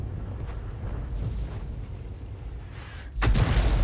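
In the World of Tanks video game, a Hummel artillery shell is fired and impacts, with a low rumbling buildup and then a sudden sharp blast near the end.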